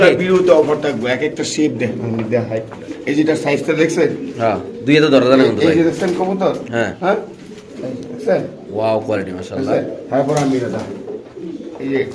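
Pigeons coo softly in the background at a pigeon sale while someone talks continuously over them.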